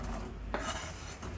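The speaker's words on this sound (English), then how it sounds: "we're going to scrape all the onions in, like so" Chopped onions scraped off a cutting board into a pan, a short close rasping scrape with a brief louder swipe midway.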